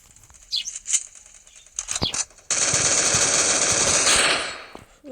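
Gunfire in the mobile shooter game Free Fire: a few scattered shots, then a loud, sustained burst of rapid automatic fire lasting over a second before it fades out.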